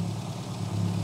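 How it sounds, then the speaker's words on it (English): An MG A-Series engine in a Mini rat rod runs with the choke pulled, giving a steady low idling hum with a slight uneven pulse, close and alone for a brief second. "Now we're going to see how it runs if we pull the choke on."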